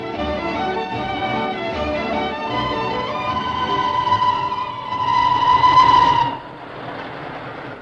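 Train sound effect in a radio comedy: a steady rolling rumble of rail cars with a sustained chord-like whistle that swells louder near the end and then cuts off, leaving the rumble alone.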